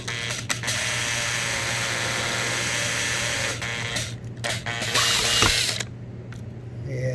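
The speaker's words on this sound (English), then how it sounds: "You want to drill very slow." A drill bores slowly through a plastic face shield, giving a steady mechanical whir with a ratcheting edge. It runs continuously for several seconds and shifts in pitch and strength toward the end.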